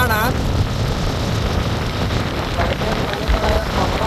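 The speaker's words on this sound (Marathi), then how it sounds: "पाणी तर पाऊस पडायला लागला" Steady rain falling outdoors in a rural village setting, a continuous broadband wash of drops hitting surfaces close by, with some background voices mixed in.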